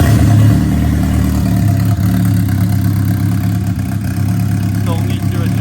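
A turbocharged Suzuki Hayabusa motorcycle engine idles loudly and close by, a steady deep rumble with a light mechanical clatter and a slight waver in level, holding even throughout.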